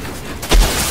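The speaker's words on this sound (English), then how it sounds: "the shotgun, it kicks" A single heavy shotgun blast in the video game Outriders lands as one deep, booming shot midway through a brief moment of low background noise.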